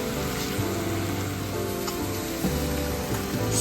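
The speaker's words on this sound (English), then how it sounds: "Give a quick stir." Leeks and shredded coconut sizzle in a hot pan as they are stirred. A continuous close frying hiss is broken by a few soft scraping stir strokes, and no one speaks.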